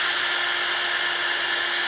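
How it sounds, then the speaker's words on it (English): A power drill about 5/16 inch boring out epoxy from the hosel of a PXG golf iron, a steady high whining hum that runs unbroken and close throughout. "Okay, so got the drill."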